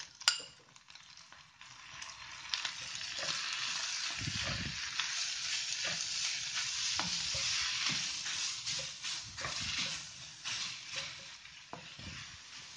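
Chopped medium onion frying in a pan for mini samosa filling, a soft continuous sizzle with repeated stirring scrapes and light clinks of a utensil against the pan, close and fairly quiet.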